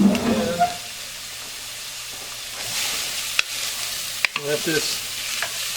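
Minestrone soup vegetables being stirred in warm oil in a pot, with a soft steady sizzle and scraping stir sounds; a voice speaks briefly at the start and near the end.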